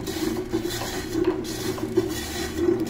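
A manual cutting machine slices through a pressure cooker pot, giving a steady metallic rasping scrape with small repeated surges as the blade works around the rim, close and continuous.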